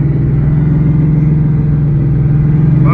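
Ford Mustang S550 with a BMR race K-member and solid bushings, coasting off the gas: a steady, loud low drivetrain drone with a rattly undertone runs unbroken throughout, ending with a brief higher squeal.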